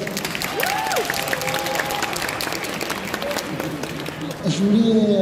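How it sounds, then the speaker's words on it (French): Convention audience applauding a guest, sustained crowd clapping with some cheering under overlapping voices, and people talking near the microphone throughout. "On peut l'applaudir"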